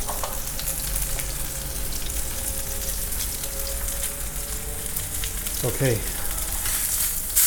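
Steak sears in a hot pan with a loud, continuous crackling sizzle throughout, a brief stir or scrape near the end, and a short spoken word over it.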